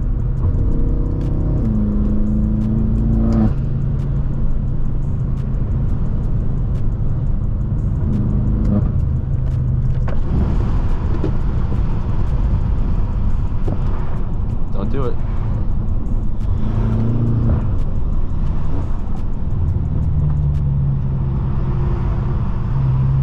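Tuned 800 hp Stage 2 BMW M6 heard from inside while driving, its engine droning loudly with repeated rises and falls in revs and shifts, a constant heavy rumble throughout.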